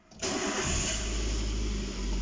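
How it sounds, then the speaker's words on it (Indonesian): A Toyota Avanza engine cranks briefly and catches, then settles into a loud steady idle with a deep low rumble close by, and no one speaks. "Sekarang mesin kita hidupkan."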